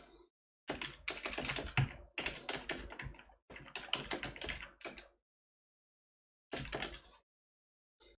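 Fingers type a field label on a computer keyboard in quick bursts of close, crisp key taps, broken by a few seconds of silence before a final short run of keystrokes, with no talking.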